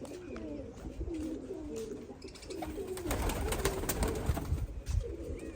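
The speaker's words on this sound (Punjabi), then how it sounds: "ਵੱਡੇ ਕਬੂਤਰ ਬਾਬਿਓ ਆ ਵੱਡੀਆਂ ਕਬੂਤਰੀਆਂ ਆਪਣੀਆਂ" Pigeons cooing repeatedly in soft, throaty phrases, with rustling and scattered chirps around them and brief indistinct voices in the background, from large adult pigeons and sparrows in a pigeon loft.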